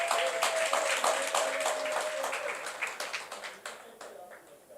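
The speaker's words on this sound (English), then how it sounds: "Colleagues, can we please clap for the Minister again?" Colleagues at a Western Cape business licensing consultation workshop clap for the Minister, a fairly close round of scattered hand claps that thins out and fades toward the end, with a voice briefly heard underneath.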